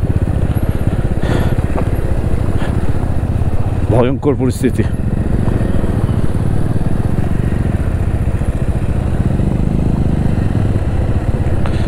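A sports motorcycle engine drones steadily under wind roar on a ride from Aalo to Mechuka in Arunachal Pradesh, loud and continuous throughout, with someone speaking briefly midway.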